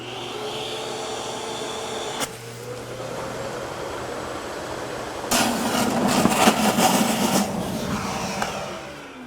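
A DeWalt Stealth Sonic shop vacuum hums steadily at close range, then roars louder and rougher midway as it draws in liquid before easing back.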